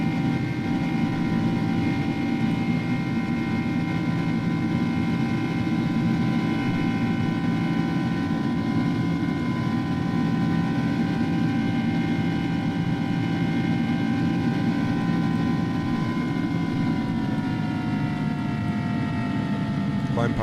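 Airbus A300 airliner engines at climb power in X-Plane 11, departing Barcelona, a steady loud drone with sustained tonal whine layered over broad low rumble, continuous and unchanging.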